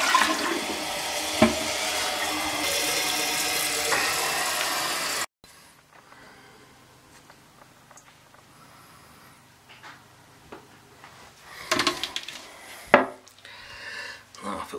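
A toilet keeps running as water leaks past the flapper. A loud, steady rushing flow lasts about five seconds, then cuts off to a quiet trickle with occasional clunks and knocks from the tank.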